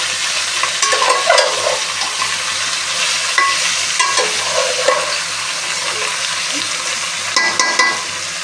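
Chicken pieces coated with salt and turmeric are stirred in a frying pan for Satari zanzanit chicken, a steady sizzle under repeated scraping strokes of the spoon, close and fairly loud throughout with no voices.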